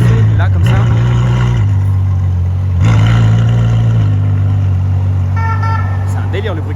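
Maserati Ghibli sports car on the Champs-Élysées in Paris, a loud, deep engine that revs and swells near the passer-by amid busy street traffic, with a horn toot and people talking over it.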